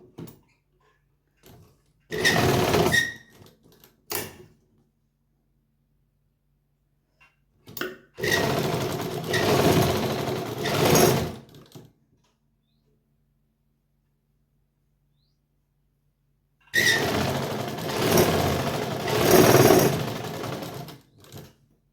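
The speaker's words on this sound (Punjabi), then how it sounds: "ਇਹਨੂੰ ਫੋਲਡ ਕਰਕੇ ਇੱਕ ਪੈਰ ਦੇ ਹਿਸਾਬ ਦੇ ਨਾਲ ਇਹ ਤੇ ਸਲਾਈ ਲਾ ਦਾਂਗੇ" A sewing machine runs in three separate bursts of rapid, loud stitching, sewing a folded 1.5-inch strip onto a neckline, with near-silent pauses between runs and no speech.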